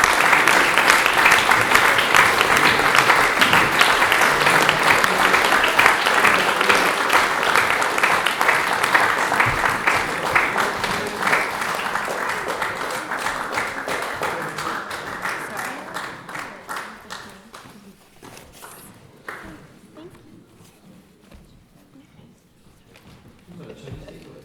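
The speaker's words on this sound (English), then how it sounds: "a round of applause would be good for them" A crowd applauds for a group of people called up to receive gifts, the dense clapping loud and steady at first, then slowly thinning and fading out over the last stretch.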